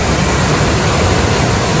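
Rain-swollen Kong Kaeo waterfall in Khao Yai pours with strong, heavy flow, a loud, continuous roar of rushing water filling the space with no pauses.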